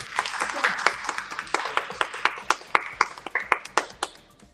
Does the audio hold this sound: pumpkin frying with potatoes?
no